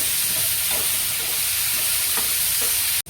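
Tomatoes sautéing in hot oil in a pan for a Maharashtrian matki dry curry, giving a loud steady sizzle with soft stirring scrapes, close and continuous, cutting off abruptly near the end.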